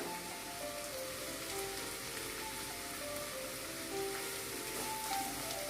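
Chopped ginger and two green chillies sizzle in a frying pan, a steady, faint hiss of fine crackling oil that continues evenly throughout.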